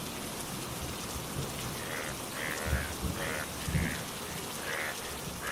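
Steady rain falling on a rainy day in a Bengali cartoon, a dense continuous hiss with a few louder patters, under faint voices.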